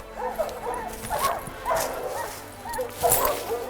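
A pack of hunting dogs bays and barks at a bear treed high up, a steady run of overlapping, near barks and yelps in the outdoors.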